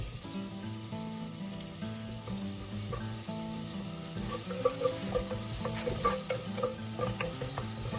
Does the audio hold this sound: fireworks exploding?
no